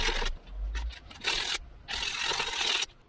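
Spray-coated animatronic eye globes sanded with 1000-grit sandpaper, giving close, raspy rubbing strokes in several bursts of different length, separated by short quiet gaps.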